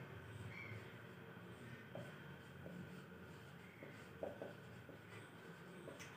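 Chalk or marker scratching across a classroom board during a mathematics lecture, steady light writing strokes with soft taps, close and continuous with no talking.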